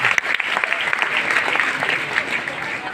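Audience at a business meeting gives steady, loud applause, with sharp individual claps standing out.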